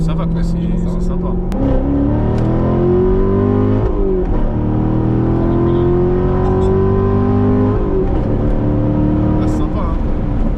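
A Chevrolet Corvette's large naturally aspirated V8 pulls hard and loud, its engine note climbing steadily through the gears with brief dips at shifts, heard from inside the car.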